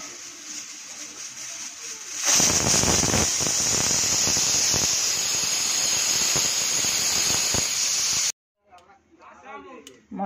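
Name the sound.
pressure cooker whistling while boiling peas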